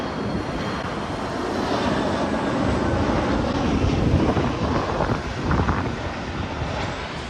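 An approaching aircraft gives a loud, broad engine roar with wind buffeting the microphone, swelling slightly as it comes in.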